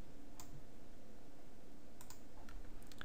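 Someone types on a computer keyboard while testing a Visual Basic program: a few quiet, scattered key clicks, a single tap early and a small cluster of clicks near the end, over faint room hiss.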